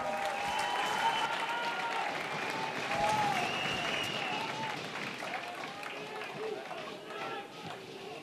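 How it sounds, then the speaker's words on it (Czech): A stadium crowd at a legends football match between SK Líšeň and SK Slavia Praha applauds a corner kick, broad sustained clapping and crowd noise from a distance with a commentator talking over it throughout. "Další rohový kop Líšně a další potlesk, zkusíme to opět vytleskat."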